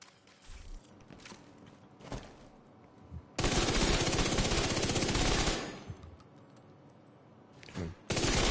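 A rarely used gun fires in The Division 2 with a sustained, loud, rapid automatic burst lasting a couple of seconds. Scattered mechanical clicks and shorter shots come before and after it.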